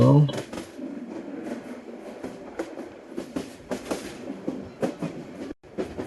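A train rolls along with a rhythmic clickety-clack in Train Simulator Bangladesh, a game set on Bangladeshi railways, while a voice talks over the steady rumble.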